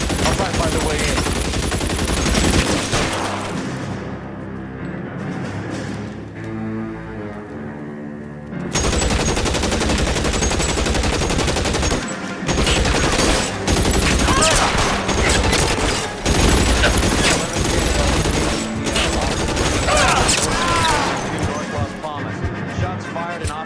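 Bursts of rapid gunfire from an L.A. Noire shootout crackle loud and close over a dramatic music score, with pauses between volleys and talk mixed in.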